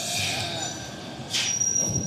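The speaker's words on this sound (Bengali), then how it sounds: "ট্রেন এখন চলে এসেছে" A train pulls into Lucknow junction with a thin, high wheel squeal holding over a low rolling rumble, and a brief hiss and clatter rising near the end at moderate loudness.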